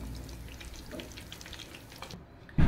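Russian chicken cutlets fry golden in a pan on medium heat, giving a steady, moderate sizzle with light crackles throughout, ending in a sudden low thump.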